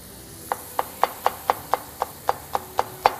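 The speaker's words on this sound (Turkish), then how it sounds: "Dörde böldük ve ondan sonra minik minik doğrayabiliriz." A knife chopping green peppers on a cutting board, a dozen crisp even taps in steady rhythm, close and alone.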